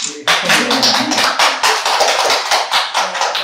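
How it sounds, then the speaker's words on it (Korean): Audience applause at an elementary school agreement-signing ceremony: a burst of many hands clapping close by, dense and steady for several seconds with a little talk mixed in. "박수 쳐야지."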